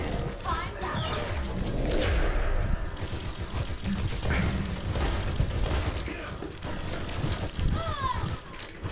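Rapid bursts of gunfire in an Overwatch match, with hurried shots and impacts around a fast-moving Tracer, mixed with game effects and a player talking over the action.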